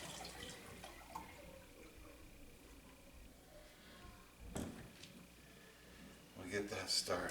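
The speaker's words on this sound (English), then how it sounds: "So we're going to go ahead and already get another shot of hot water going" Hot water runs from a tap in a steady, faint, hissing stream, with brighter splashing and dripping building up near the end.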